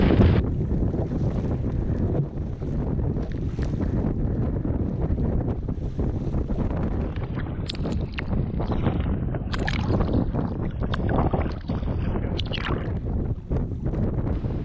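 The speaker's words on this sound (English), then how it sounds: "Wind is negating all the current we have. Holy. Now we gotta go right into the headwind." A strong headwind blows during a canoe expedition on a river, buffeting the microphone with loud, steady roaring gusts, while paddle and water splashes come through faintly underneath.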